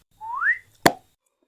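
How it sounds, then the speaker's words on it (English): A rising whistle slides upward for about half a second, then a short sharp pop follows after a brief gap, both clean against silence. "burst and vanished with a whistle and a pop"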